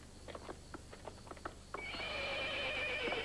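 A stallion at a ranch lets out a loud, close whinny that rises and trails off, preceded by a series of soft hoof clops and thumps.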